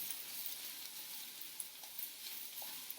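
Frozen peas sizzle in a hot frying pan, a faint, steady hiss with a few soft pops and crackles throughout, no talking.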